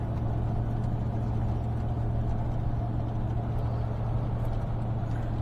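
A car on a road trip in Morocco, steady engine drone and road rumble heard from inside the cabin, constant and fairly loud throughout with no talk.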